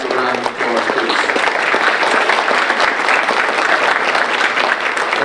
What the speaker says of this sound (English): give these 3 triathletes a round of applause